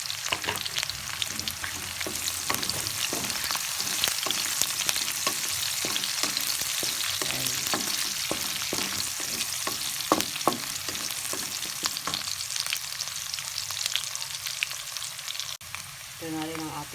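Salted dried fish (daing) sizzles and crackles loudly in hot oil with onion and garlic, a constant frying hiss broken by frequent sharp pops and stirring scrapes throughout.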